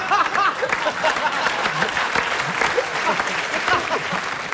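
Studio audience of a comedy panel show claps steadily and fairly loudly throughout, with a few voices talking over the applause.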